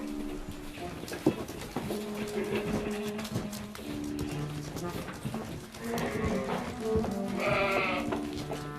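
Sheep bleat intermittently inside a warm stable in the Austrian Alps, several animals calling over a low barn murmur, moderately near, with faint voices beneath.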